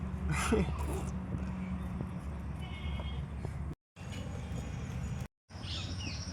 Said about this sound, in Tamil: இந்த குருவி நல்லா கத்திக்கிட்டே இருக்குல்ல.